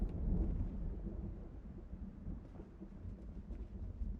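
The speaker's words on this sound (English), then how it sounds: "Oh, it's a thunderstorm." In the video game Project Zomboid, a thunderstorm rolls with a deep rumble that peaks early and slowly fades, while faint rain patters underneath and nobody speaks.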